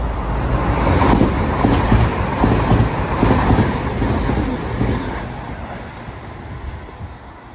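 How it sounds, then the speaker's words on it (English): A train rushes through Dewsbury station at speed, a loud sustained roar with rail rumble that peaks early and slowly fades as it passes, heard alone. "Train now zooming past."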